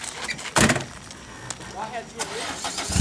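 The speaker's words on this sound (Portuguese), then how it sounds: "agora liga o carro agora aqui" A car engine cranking and catching amid a noisy outdoor scene while people try to move a stuck car by one tyre, with a loud burst near the start and talk and shuffling around it.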